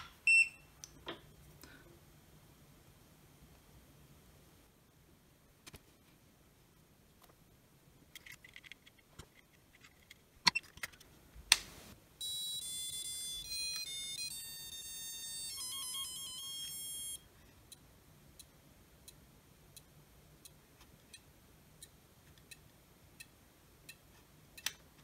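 An old fire alarm sounder wired up during a repair test emits a burst of electronic tones for about five seconds, moderately loud, preceded and followed by scattered clicks and handling noises in a quiet workshop.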